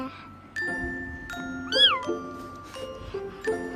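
A cat gives one clear, rising-then-falling meow near the middle, set against soft tinkling chimes and musical tones.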